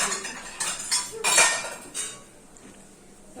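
Bowls and cutlery handled close by, a quick run of metallic clinks and knocks for a couple of seconds before it settles to quiet handling noise.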